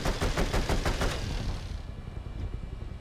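Helicopter guns firing in the War Thunder video game: a rapid, loud string of shots for about a second and a half, then cut off, leaving a quieter rumble with faint rattling.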